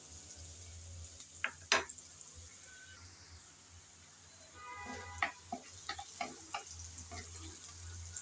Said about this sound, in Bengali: কিছুক্ষণ নেড়ে চেড়ে পেঁয়াজ ভেজে নিলাম।